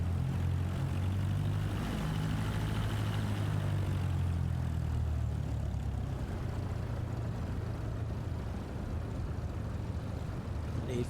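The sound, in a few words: aircraft engine powering up for takeoff, Flight Simulator 2024 video game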